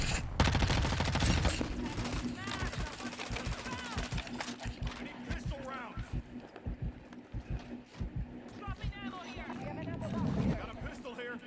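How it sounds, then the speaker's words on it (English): Gunfire in the video game Call of Duty DMZ comes as scattered sharp shots and short bursts, fairly faint and distant, mixed with players talking throughout. "I hear other gunshots."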